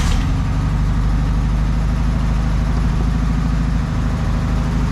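A Volkswagen Super Beetle engine runs steadily at idle, a loud continuous low rumble with a throbbing pulse and no voices.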